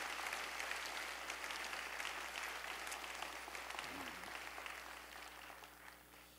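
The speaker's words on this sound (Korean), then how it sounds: "우리 자리에서 한번 일어나시면 박수 한번 하겠습니다." A church congregation applauds during a Sunday service, a steady wash of clapping heard from a distance and fairly faint, slowly tapering off.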